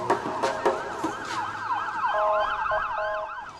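A wailing ambulance siren rises and falls in quick repeated sweeps, moderately loud over traffic rumble after a few sharp knocks at the start, with no talk.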